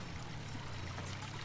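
In the Farming Simulator 19 game, set in the Tyrolean Alps, a steady stream of water flows and splashes in a continuous, even rush, faint and alone.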